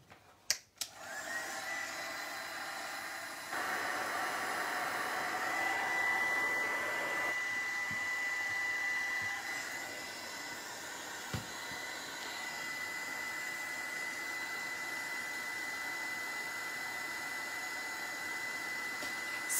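A craft project, a bottle coated with charcoal black matte wax, is dried with a hair dryer that clicks on and runs as a steady, close whir, its pitch shifting slightly as it moves.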